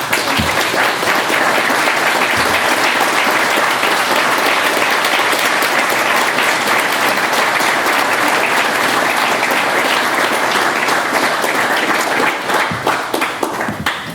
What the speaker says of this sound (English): I would like to show the room while we give you an applause.